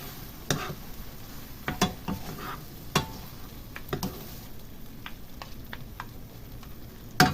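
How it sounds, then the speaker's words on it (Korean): Anchovies being stir-fried in a pan over residual heat with the flame off, faint sizzling, scattered clicks and scrapes of a utensil against the pan, quiet and close. "남은 열기로 이렇게 볶아주면 됩니다"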